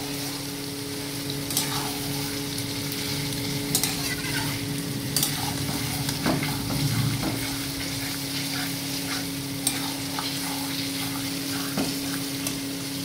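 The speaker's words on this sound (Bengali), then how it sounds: "এইভাবে ভালো করে এটাকে কষাতে হবে একটু সময় নিয়ে।" Mutton sizzles in a pan as it is stir-fried slowly with salt. Repeated scraping strokes of a spatula sound over a constant, close frying hiss, with no talking.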